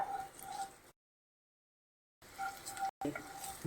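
Ginger and garlic sauté in hot sunflower oil for a noodle dish, giving a soft, steady sizzle and frying crackle that drops out into a long silence before returning.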